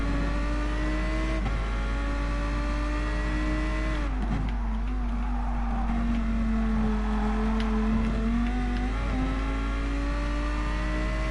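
A car engine revs and holds steady in GT Sport, a racing game on a December 2018 update, its tone rising and dropping with gear changes across a continuous drive, loud and close with no talk.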